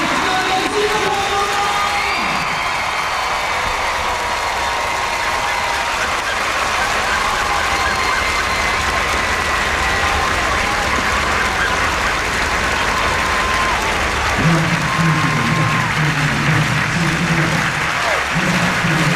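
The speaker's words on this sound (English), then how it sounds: "And a big applause from everybody" Large crowd at the Singapore National Day Parade 2003 giving sustained applause and cheering, a broad continuous roar of clapping with distant voices and music underneath.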